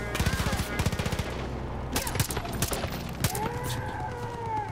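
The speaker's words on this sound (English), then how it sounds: "Where are they shooting from?" Gunfire in Far Cry New Dawn, with rapid bursts of automatic shots up close at the start and scattered single cracks and rattles later, over a steady game background.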